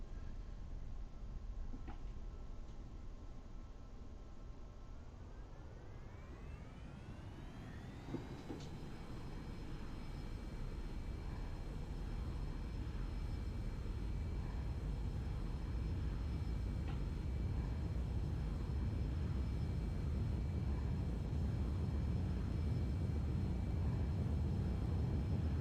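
A Cirrus Vision SF50 jet in X-Plane 11 spools up for takeoff, its steady engine whine rising in pitch over a few seconds and then holding as a loud, continuous roar with rumbling wind noise.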